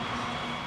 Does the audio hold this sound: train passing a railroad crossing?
yes